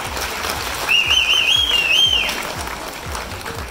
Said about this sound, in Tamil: ஒரு பெரிய கைத்தட்டல் கொடுத்துடலாம் சாருக்கு